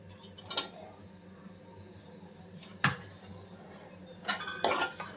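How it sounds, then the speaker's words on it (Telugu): Boiled drumstick pieces going into a curry pan and being mixed, with a few sharp metallic clinks and clatters of utensil against pan spread across the moment, the busiest burst coming near the end. "ఇందులోకి బాయిల్ చేసుకొని పక్కన పెట్టుకున్నాం కదా మునక్కాయల పీసెస్ కూడా యాడ్ చేస్తున్నాను"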